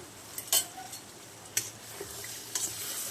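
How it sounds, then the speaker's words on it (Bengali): Meat being sautéed and stirred in a pan, with a low steady sizzle and a few sharp scraping strokes of the spoon spaced about a second apart, heard close and alone. "এই যে মাংসটা কষানো হচ্ছে"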